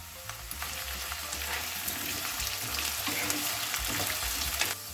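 Potatoes and onions sizzle steadily in a hot pan over medium flame, with a constant crackling hiss and occasional scraping stirs, close and alone.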